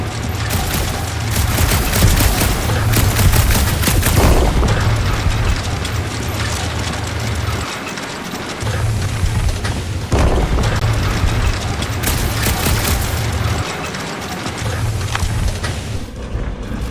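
Rapid gunfire from Quill's guns in the Guardians of the Galaxy video game, loud sustained bursts of shots and booming impacts with brief pauses, dense and continuous over a low rumble.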